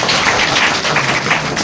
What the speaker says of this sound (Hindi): जोरदार ताली हमारे।